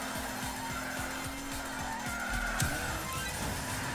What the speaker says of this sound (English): See, I should be able to chain that into two separate drifts